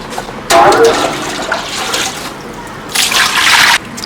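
Running water from a tap pours over scraped betel-nut taro being washed, a close, loud hissing splash in two bursts of roughly two seconds and one second, with quieter trickling between.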